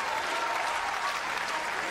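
Sustained, dense applause from an enthralled crowd at a tennis final at the Nice Lawn Tennis Club, a steady wash of clapping filling the whole moment with no gaps.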